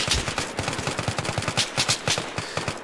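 Rapid automatic gunfire from a Battlefield 3 match rattles in quick, evenly spaced bursts, fairly faint and slightly distant. No one speaks over the shots.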